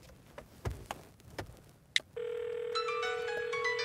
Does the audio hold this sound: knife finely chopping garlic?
no